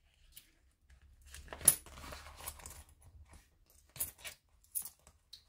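Coins clinking and being handled during a count of budget envelope money, with a few scattered close metallic taps and jingles separated by quiet gaps.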